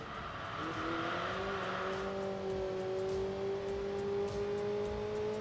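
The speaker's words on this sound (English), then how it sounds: "An old school twin carb inline 4 that's been upgraded." An upgraded old-school twin-carb inline-four engine in the racing game Enthusia Professional Racing holds a smooth, steady drone that climbs slightly in pitch as the car pulls along, with faint tire noise.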